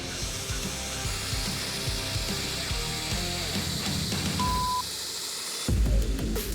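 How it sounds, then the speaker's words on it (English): Grinding of a forged steel knife blade after heat treatment, a continuous loud abrasive whir with rough mechanical texture, ending in a brief harsher burst, with no talking. "The heat treat is good, and now I'm gonna grind."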